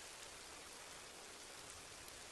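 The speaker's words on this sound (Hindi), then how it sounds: "इस बारिश का पानी तो कितना ठंडा है" Steady, dense rainfall in a forest hissing evenly throughout, a continuous wash of drops with no voices or breaks.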